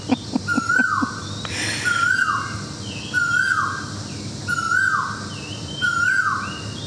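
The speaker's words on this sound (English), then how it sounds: "And the bird is off again" A bird in Thailand calls loudly in the morning, repeating a sharp descending whistle about once a second, clear and near over faint background hiss.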